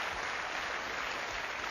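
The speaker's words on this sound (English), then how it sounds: "Round of applause." Steady audience applause from a live studio crowd, a dense wash of clapping at even loudness filling the whole moment with no voices over it.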